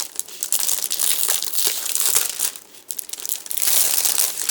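The plastic bag that a light pad comes in crinkles and crackles as it is handled, close and loud, in bursts of rustling that run the whole time without speech.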